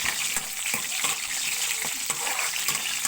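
Garlic sizzling in a pan while being sautéed for ginisang upo, a soft steady hiss broken by light scraping stirs and clicks, fairly quiet.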